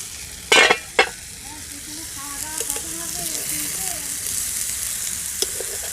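Eggplant slices sizzle in a pan cooked with water instead of oil, a steady close frying hiss with a couple of sharp clatters near the start and faint tones in the background.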